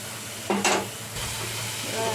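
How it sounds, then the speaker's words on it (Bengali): Greens stirred and frying in a pan with turmeric and salt, a close steady sizzle with a sudden louder burst of hiss and scraping early on. "শাকটা নাড়া করা হয়ে ভাজা ভাজার মতো হয়ে যাচ্ছে।"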